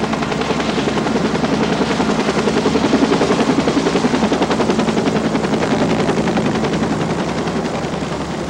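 A medical life-flight helicopter flies close and loud, its rotor beating in a fast, even chop that holds steady throughout.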